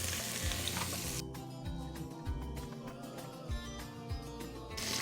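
Chicken browning in a frying pan, with a steady loud sizzle and crackle of hot fat, occasional scraping stir noises, and no talk.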